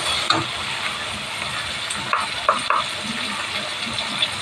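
Drumstick curry cooking in oil in a pan, giving a soft steady sizzle and hiss with a few scraping stirs of a spoon, heard close and alone without talk.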